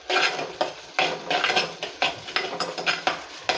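Green chillies being sautéed in a pan for a village-style Kerala fish curry, a rhythmic series of close metal spatula scrapes and clinks over a light sizzle, no speech.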